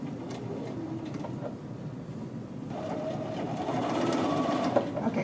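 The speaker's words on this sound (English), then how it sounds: "you are going to sew again 5/8 of an inch, literally right on top of that same stitching line" Sewing machine running steadily while stitching a men's shirt collar, a continuous close mechanical whir that grows slightly louder and busier in the second half, with no talking.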